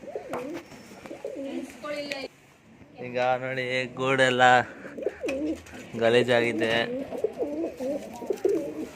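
Pigeons coo in low, rolling bursts close by, alternating with a person talking; the cooing swells twice between stretches of speech.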